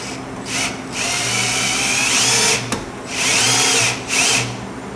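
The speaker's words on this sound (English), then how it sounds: "To spin up my oil pressure with my drill" A power drill, driving an engine's oil pump through a cut-off screwdriver bit to prime it, whirs loudly up close in several bursts of varying length, its high motor whine starting and stopping.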